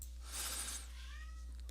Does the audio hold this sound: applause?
no